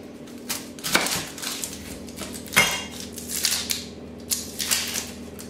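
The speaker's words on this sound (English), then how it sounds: "So I'm going to cut my onion into 8 wedges." A knife cuts a red onion into wedges on a board, giving several sharp crunching chops spaced a second or two apart, close and clear with no talking.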